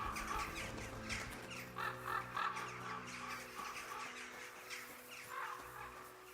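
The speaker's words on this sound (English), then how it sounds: "Might be the best crow flying away I've ever heard in a video game." In the medieval video game Kingdom Come: Deliverance 2, a crow caws several times in a harsh, rhythmic series as it flies away over a steady low ambient hum, with no speech.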